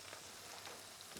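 Mushrooms, peas and carrots sizzle steadily in hot oil in a pan, a continuous close crackling hiss with no talking over it.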